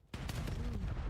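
Gunfire bursts out in a Call of Duty League match, a sudden loud, dense volley of shots that starts after a brief quiet and rattles on without a break.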